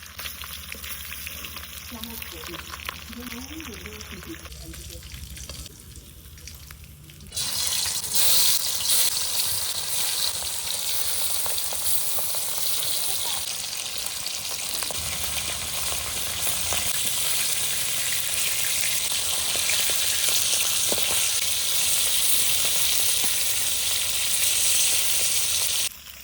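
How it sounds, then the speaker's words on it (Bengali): Hilsa fish fry in oil with a loud, continuous, crackling sizzle that jumps up sharply after a quieter opening stretch and then holds steady and close until the end. "মাছ ভাজা আমার হয়ে গেছে, এখন তুলে নেব।"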